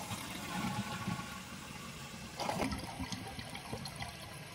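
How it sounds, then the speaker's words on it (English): A toilet tank drains as the flush lever is held down, giving a steady rushing, gurgling wash of water that swells briefly near the middle and continues at moderate level throughout, with no talking. "Make sure to hold the flush lever down until most of the water in the tank is removed."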